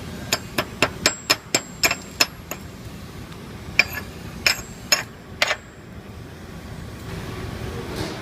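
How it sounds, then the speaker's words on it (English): Sharp hammer taps chipping the ceramic ferrule off a fresh steel stud weld, about a dozen close metallic clinks in two quick bursts, then quiet workshop background. "You then chip off the ferrule,"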